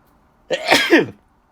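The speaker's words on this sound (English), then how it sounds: "I have to sneeze" A single close sneeze, a sharp explosive burst of breath lasting under a second, alone in a quiet room.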